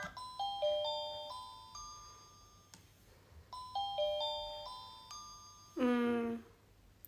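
An electronic doorbell chime option plays a descending multi-note tune twice, clear and close, followed by a shorter, buzzier rippling ring near the end, with no voices.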